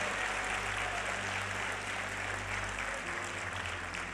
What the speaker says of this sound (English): Let's give him a round of applause for his vision.